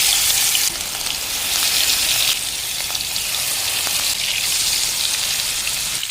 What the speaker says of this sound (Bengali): তেলটা গরম হয়ে গেছে, মাছগুলো তেলের মধ্যে ছেড়ে দেব।